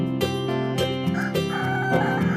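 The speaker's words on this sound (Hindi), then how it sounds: "हर रोज सवेरे मुर्गे के कुकड़कू बोलते समय ही जाग जाते थे" A rooster crows loudly in several drawn-out, harmonic calls, close by and clear, with no voices.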